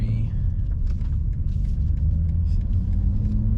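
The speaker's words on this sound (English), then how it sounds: "All right, so driving the BMW M3." A 2023 BMW M3 engine drones steadily as the car drives, a continuous low rumble with road noise from inside the cabin, holding an even level throughout.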